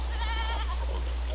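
A goat bleats in a quavering, wavering call at a farm where goats are being fed watermelon, heard fairly close over a steady low background rumble, with no talking.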